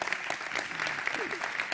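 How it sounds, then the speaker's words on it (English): Audience applause at a conference stage session, an even patter of many hands clapping that holds steady for the whole stretch, with faint voices mixed in. "A big round of applause, both for the presenters and also for the judges"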